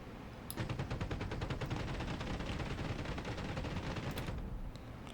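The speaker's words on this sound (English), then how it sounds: "it's machine gun" Sustained warplane machine-gun fire strafing moving vehicles in Warbirds, a dense rapid rattle of shots lasting several seconds and fairly loud, with no talk over it.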